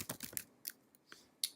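Login details typed on a computer keyboard: a quick burst of close, crisp key clicks, then a few scattered single taps with short pauses between them, quiet and without talk.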